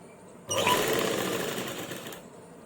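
Sewing machine running steadily as it stitches an invisible zip into a kameez or kurti, one continuous whirring burst of about two seconds, close and fairly loud, with no talk.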